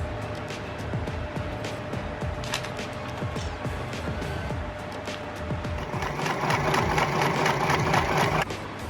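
A sewing machine stitching a stuffed flower cushion, a steady mechanical whir with rapid rhythmic needle ticking that grows louder and denser toward the end, then stops abruptly.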